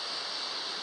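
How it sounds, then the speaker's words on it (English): Waterfall on a mountain hiking trail on Pico de Orizaba, heard as a steady, moderate rushing hiss of falling water with no voices. "I found another waterfall, very beautiful"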